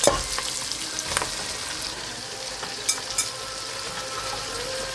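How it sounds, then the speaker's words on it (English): Green beans go into a pan of sautéed vegetables for Lebanese loubieh b zeit and fry with a dense, steady crackling sizzle, with a few light knocks from a utensil, close up and without talk. "Now I'm gonna add the green beans."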